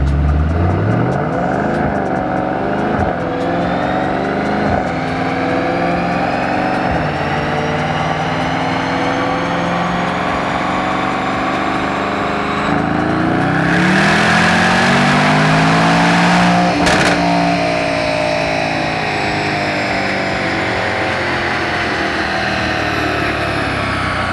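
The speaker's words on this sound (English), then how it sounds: "E63 S AMG ready to go. It's all strapped down. We've got it in dyno mode." Loud, close revving from a Mercedes-AMG E63 S strapped down on a dyno in dyno mode, the engine climbing steadily through the gears with rising pitch, a brief shift, then another long pull, sustained throughout with no speech.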